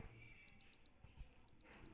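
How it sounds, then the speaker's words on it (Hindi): Alarm clock on a wristwatch set for nine o'clock beeping in quick paired high-pitched bursts, two pairs with a short gap, faint over a low room hum. "ये अलार्म बज रहा है मेरा 9 बजे।"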